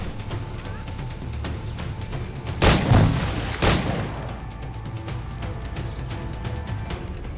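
Two sharp, loud gunshot blasts about a second apart in Assassin's Creed IV: Black Flag, cutting through steady game background noise with faint clicks and hum.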